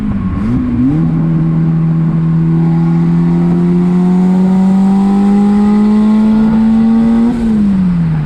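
A turbocharged Honda D16 engine in a Suzuki Vitara pulls hard in third gear, its loud droning tone climbing steadily for several seconds before easing off, heard from inside without talk.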